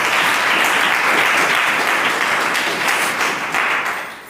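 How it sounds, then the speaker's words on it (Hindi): A church congregation applauds in a sustained, dense wash of clapping that stays loud and even for several seconds before easing slightly, with no talk over it. "एक बार तालियां बजाइए प्रभु के लिए।"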